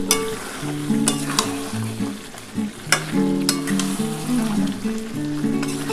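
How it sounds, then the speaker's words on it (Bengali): Dhaba-style chicken curry with coriander leaves sizzles steadily in a pan, with a few sharp stirring scrapes over a bed of background music. "আমি নামাবার আগে কিন্তু ধনেপাতা দিয়ে একটুখানি কষাবো"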